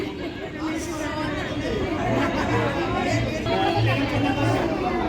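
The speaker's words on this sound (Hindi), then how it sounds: "काफ़ी भीड़ तो है अंदर।" Dense crowd chatter fills a Ramlila venue, a steady, close babble of many voices with no single speaker standing out.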